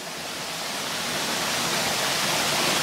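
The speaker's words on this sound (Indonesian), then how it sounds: "Cuma ini air terjunnya nggak begitu tinggi" A small, not very tall waterfall gives a steady, broad rushing roar of falling water, constant and fairly close, with no voices.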